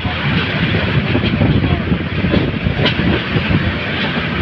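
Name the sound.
Kalni Express train running on rails near Dhaka Cantonment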